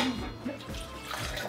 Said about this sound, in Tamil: சரி, தண்ணி ஊத்துறோம்.